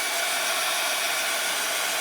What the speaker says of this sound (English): Let me just shoot those real quick with a dryer so we can do some glazing.